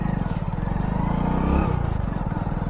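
Motorcycle engine running on a desert road, a steady pulsing low rumble that swells briefly as it revs mid-clip, close and fairly loud, with no talking.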